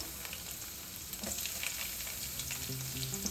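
Crushed garlic fries in hot oil with mustard seeds and cumin, making a continuous dense crackle and hiss. A few faint pops and a light clink come through. The sound is steady and close and fairly quiet, with no voices.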